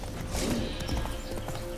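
Horse hooves clip-clop in The Witcher 3 video game, a quick irregular run of close, fairly loud hoof strikes over busy game background noise.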